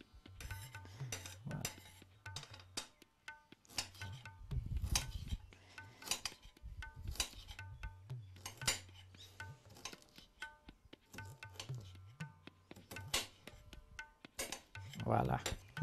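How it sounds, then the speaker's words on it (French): A knife chops vegetables into small cubes on a cutting board for a vegetable couscous, with rapid repeated taps and clicks in bursts, close and fairly quiet, with some low background hum. "Nous faisons des petits cubes."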